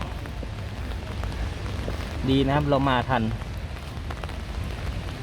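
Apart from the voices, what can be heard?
rain falling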